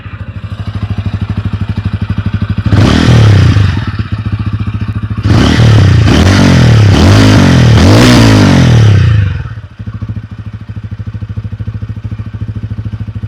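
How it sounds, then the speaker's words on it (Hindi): A TVS Ronin 225 motorcycle exhaust idles with a close, thumpy, bassy pulse, then roars through one sharp rev and a rapid burst of three or four revs before dropping back to a steady loud idle. "इस गाड़ी की यूएसपी इसका एग्जॉस्ट है, तो एग्जॉस्ट मैं आपको सुना के दिखाता हूँ इसका एग्जॉस्ट कितना बढ़िया है।"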